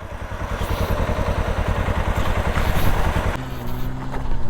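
A motorcycle circles during stunt riding practice, its engine running as a steady, rapidly pulsing mid-range drone that shifts to a smoother, lower idle near the end, close and loud, with no talk.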